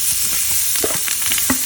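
Seasoned shrimp hit a pan of sautéed garlic with a loud, close sizzle, with brief scraping and stirring knocks over the hiss.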